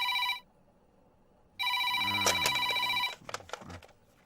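A telephone rings in a scene from the Telugu film Bujjigadu: two loud electronic ring bursts separated by a short silence, followed by a few faint clicks and knocks.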